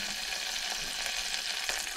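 Half an onion and cooked beets fry in butter in a pan, producing a soft, continuous sizzling hiss with faint crackles, close but fairly quiet, with no speech.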